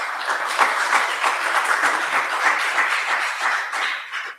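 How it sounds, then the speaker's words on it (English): Audience applause at a political forum: steady, dense clapping from a crowd, fairly loud and continuous for several seconds before tapering off at the end. "Let's give these gentlemen a round of applause"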